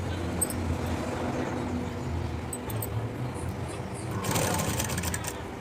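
A sewing machine runs long stitches along gathered frills on a lehenga skirt, giving a steady, close mechanical whir with a brief shift in pitch near the end.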